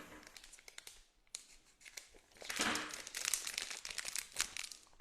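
Scissors cut into a plastic piping bag used for cake decorating, giving close crinkling and snipping sounds that grow louder and denser toward the end, with no speech.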